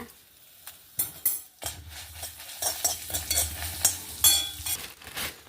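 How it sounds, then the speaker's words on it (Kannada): Urad dal, mustard seeds and curry leaves dropped into hot oil, quiet at first, then a growing close sizzle with spoon stirring and clinks against the pan. "ಅರ್ಧ ಟೀ ಸ್ಪೂನ್ ಉದ್ದಿನಬೇಳೆ ಹುರ್ಕೊಂಬ ಒಂಚೂರು ಸಾಸಿವೆ ಹಾಕೊಂಬ ಒಂಚೂರು ಬೇವನೆಲ್ಲ ಹಾಕೊಂಬ"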